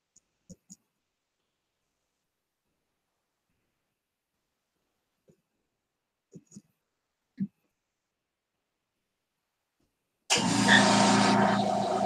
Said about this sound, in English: Probably hear the air compressor running